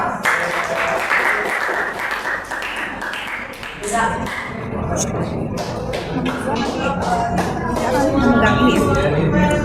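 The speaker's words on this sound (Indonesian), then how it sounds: "Tepuk tangan buat kelompok 2." A group of classmates claps for a presenting group, a continuous round of applause with some sharp individual claps, mixed with voices talking throughout.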